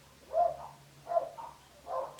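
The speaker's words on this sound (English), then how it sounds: "I'm just gonna wait for these dogs to keep quiet." Dogs barking at moderate distance, three separate bark bursts spaced about a second apart, fairly faint over a low background hum.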